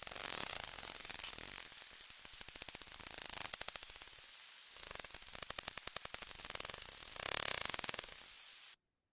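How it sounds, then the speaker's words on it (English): Bottlenose dolphins produce high, frequency-modulated whistles that swoop up and down, several overlapping, with bursts of rapid echolocation clicks buzzing between them over a background of static. "when bottlenose dolphins are socializing, they produce frequency modulated vocalizations called whistles."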